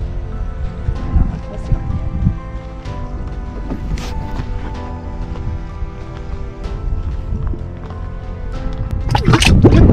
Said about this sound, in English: you could hear the bubbles.